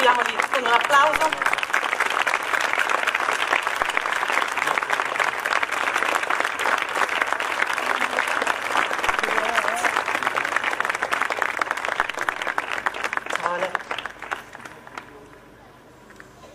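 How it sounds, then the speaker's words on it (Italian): Audience applause at an Italian award ceremony, the Premio Troisi, a steady dense wash of clapping lasting about fourteen seconds before fading out at the end. "Accogliamoli con un applauso."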